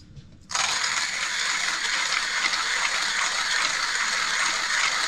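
Coffee beans being ground in a 1Zpresso hand grinder for espresso, a loud, steady crunching and rattling burr grind that starts abruptly after a brief quiet moment and runs on without pause.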